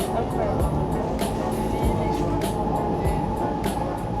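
A Paris RER commuter train at speed, heard from inside the carriage: a steady loud rumble with rhythmic clacks from the rails and a high whine running throughout.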